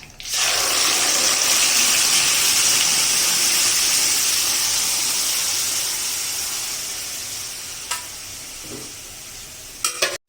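Ground tomato paste hits hot oil in a pan while cooking tomato thokku pickle, setting off a loud, steady sizzle that slowly fades over several seconds, with a couple of brief clinks near the end.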